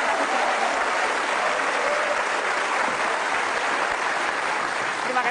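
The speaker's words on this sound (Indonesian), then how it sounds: "Tepuk tangan sekali lagi Ibu Menteri Susi Pujiastuti." Sustained applause from a television studio audience at an Indonesian talk show honoring a government minister, dense and steady throughout with no letup.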